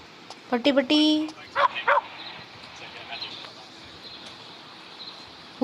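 A dog in a video game, Indian Theft Auto, barks and yips a few times in quick bursts, then quieter whimpering sounds trail off over a soft background hiss.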